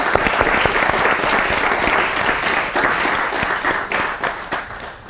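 A live studio audience bursts into sustained applause for a guest on a Mozambican talk show, dense clapping filling the room steadily before tapering slightly at the end.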